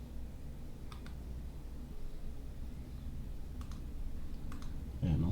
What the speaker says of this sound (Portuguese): Vou clicar aqui.